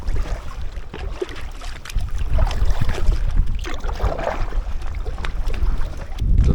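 Gusty wind buffets the microphone while an inflatable kayak is paddled along the Great Glen Canoe Trail between Laggan Lock and Fort Augustus, a loud rumbling roar with irregular surges and soft splashes beneath.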